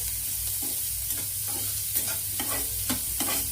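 Fried rice ingredients with fried onion are stirred and mixed in a sizzling pan, the spatula scraping in a regular rhythm about twice a second over a constant close hiss.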